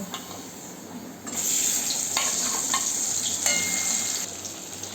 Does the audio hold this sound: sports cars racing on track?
no